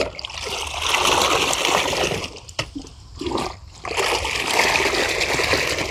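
Water mixed with liquid fertilizer poured around a potted plant, a steady splashing, trickling stream into soil that briefly pauses and resumes with gurgling.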